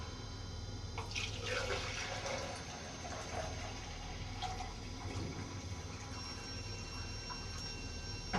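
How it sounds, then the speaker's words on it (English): Undiluted print fixer poured from a bottle into a pitcher while setting up darkroom chemicals, a quiet steady liquid stream with faint splashing, close by and without talk. "I'm just going to pour 30 ounces straight into the pitcher."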